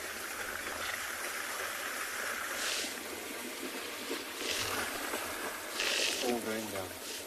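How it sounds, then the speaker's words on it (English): Buffalo splash through a river on a morning safari in South Africa, a continuous rushing, gurgling water sound with a few louder surges, heard from nearby with faint voices mixed in. "I'm sure you can hear the water here behind us as the buffalo have come into the water."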